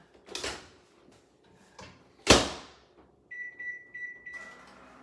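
A door or latch clatters shut a few times, then a steady electric hum starts up as a microwave begins running.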